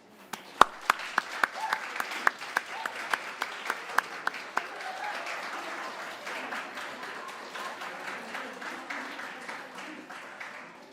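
A crowd applauds candidates at a student guild officer elections results night, with sharp individual claps standing out early over a steady wash of clapping that gradually thins and fades.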